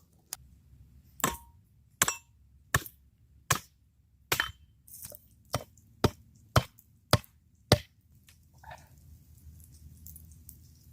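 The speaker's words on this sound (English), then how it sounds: "I'm just gonna debark a section of it" A wooden stick being debarked with a blade at a freezing, sleety campsite, about a dozen sharp, close knocks and scrapes in a loose rhythm over faint background noise.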